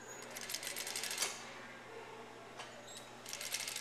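Sewing machine stitching a blouse seam in quick rhythmic bursts of needle clatter, a short run, a pause with a single click, then another brief run, close and fairly quiet, with no talking.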